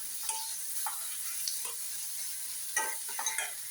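Tomatoes fry softly in a pan for brinjal bharta, a quiet, low hiss broken by a few sharp clinks and scrapes of a spoon stirring near the end.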